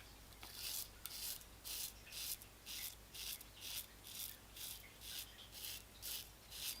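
A double-edged safety razor makes short, rhythmic scratchy strokes across skin, about a dozen in steady succession. They are soft and close, with no talking.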